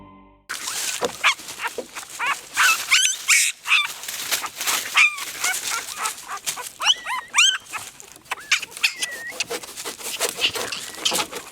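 A puppy squeals and whimpers over and over, high-pitched yelps and cries close by, with other dog sounds mixed in.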